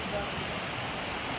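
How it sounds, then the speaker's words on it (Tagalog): Strong sea waves at night on a Pangasinan beach, a dense continuous roar of surf filling the whole short moment, close and steady with no clear break. "Ang lakas ng alon."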